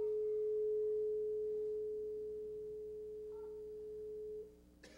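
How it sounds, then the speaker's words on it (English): A struck tuning fork rings a single pure steady tone that holds evenly and slowly fades over several seconds, close and alone, with a brief soft knock near the end. "That's right, it's a tuning fork."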